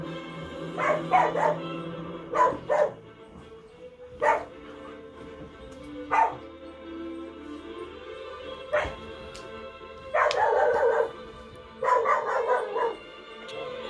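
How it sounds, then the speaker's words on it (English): A dog barks and yips in repeated bursts, with whimpering between them, close by indoors, the outbursts spaced irregularly over about fourteen seconds above quiet background sound. "this video is pretty much just dog sounds now"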